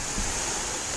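Sea waves wash onto the beach at Bahia de Kino as a steady broadband hiss of surf, loud and continuous, with no voices heard.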